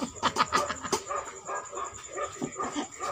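A dog barks in short yipping bursts, several quick barks clustered early then scattered, close and moderately loud over a busy indoor background.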